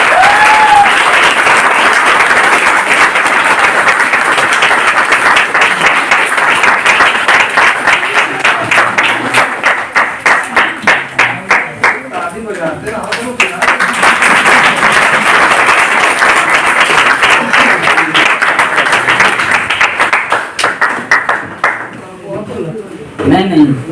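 Loud, sustained applause from a large audience at an RCM business event in Ludhiana, dense steady clapping that briefly thins midway and then surges again before trailing off.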